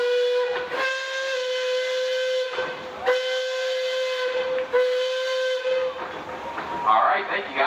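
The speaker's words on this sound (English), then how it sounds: "Penny whistle." A steam engine's penny whistle blows three long, loud, piercing blasts with short pauses between, hissing steam trailing at the end, during a steam show parade.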